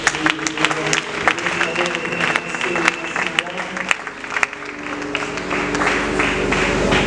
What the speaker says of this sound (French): Nous acclamons pour cette femme.